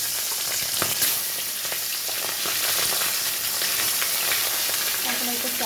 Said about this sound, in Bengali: কড়াইতে আমার তেলটা গরম হয়ে গেছে, তো এখানে আমি মুড়োটা ভাজার জন্য ছেড়ে দিচ্ছি।